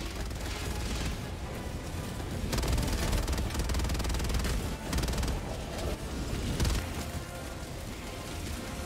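Continuous rapid gunfire from weapons in the video game Helldivers, dense overlapping bursts and booms rolling on without pause, loud and close throughout.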